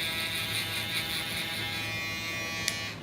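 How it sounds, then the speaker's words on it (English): An electric foil shaver runs against skin in a barbershop, giving a steady, close, high buzzing drone that holds for several seconds before a brief click near the end. "I've seen barbers do that where they prep the skin that's going to be shaved with the foil shaver"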